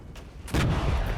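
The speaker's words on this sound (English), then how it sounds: "We are getting hit by artillery." A heavy artillery blast in the video game Regiments, a single deep boom that hits about halfway through and rolls on as a low rumble, preceded by a fainter distant thud.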